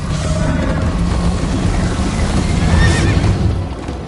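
A horse whinnies loudly in Minecraft: Story Mode over a constant rushing, roaring backdrop, with a faint rhythmic thud of hooves underneath.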